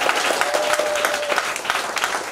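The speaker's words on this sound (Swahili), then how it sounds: "Piga makofi ya piga mbinguni." A church congregation claps loudly and densely at a worship service. A continuous wash of hand claps carries a few sharper accents and a faint sustained tone in the background.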